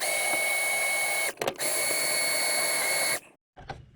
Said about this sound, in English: you can come in here with your drill bit